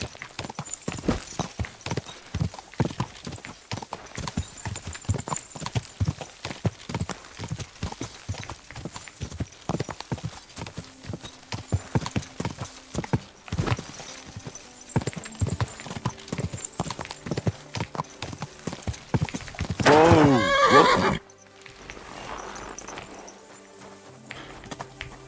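Rapid, steady clip-clop of a horse's hooves galloping across ground in the video game Kingdom Come: Deliverance 2, loud and close for most of the stretch, then a brief whinny-like burst before quieter ambience.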